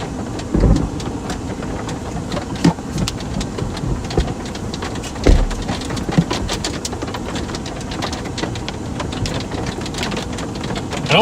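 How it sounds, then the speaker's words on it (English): Pea-sized hail pattering down during a thunderstorm on the Colorado plains north of Last Chance, a dense, steady clatter of small impacts with a few louder knocks, heard without any voices. "We got pea-sized hail."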